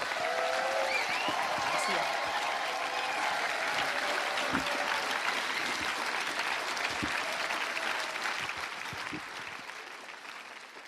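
A church congregation applauding and acclaiming the Lord, with sustained dense clapping and scattered cheers and voices that fill the room and taper slightly toward the end.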